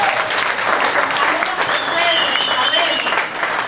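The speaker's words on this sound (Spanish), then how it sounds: "Un aplauso para la pastora de Ana." Church congregation clapping for the pastor during a Sunday service, loud and sustained, a dense roar of hands with cheering and voices mixed in throughout.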